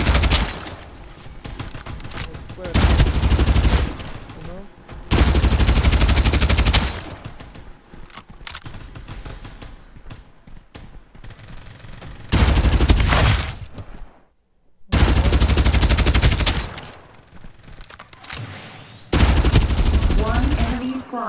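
Automatic gunfire in the video game Farlight 84 comes in several loud, sustained bursts separated by quieter gaps, with game sounds in between.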